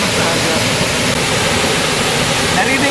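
Tangadan Falls in San Gabriel, La Union, roars as a loud, dense, unbroken rush of falling water filling the whole clip at close range.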